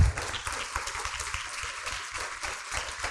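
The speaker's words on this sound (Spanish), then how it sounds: "Este es el aplauso para vos." Dense, steady applause fills a conference hall after a talk at a human resources event on cultural and digital transformation, a continuous close patter of many hands clapping with no voices over it.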